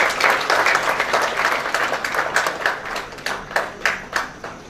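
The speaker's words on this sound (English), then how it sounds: "A big round of applause to Professor Samapika Das Biswas." Audience applause at a conference inauguration ceremony, a full burst of clapping that thins out toward the end into a few separate, distinct claps.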